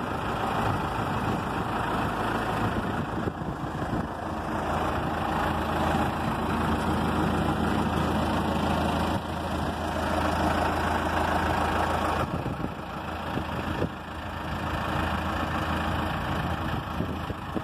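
A 2007 Claas Celtis 446 RX tractor engine idles steadily at close range, a continuous low rumble with a constant hum and no talking over it.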